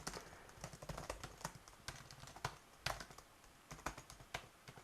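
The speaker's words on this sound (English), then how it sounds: "I will type here." Irregular bursts of keystrokes on a computer keyboard, close and fairly quiet, with uneven rhythm and short pauses between flurries, no voices.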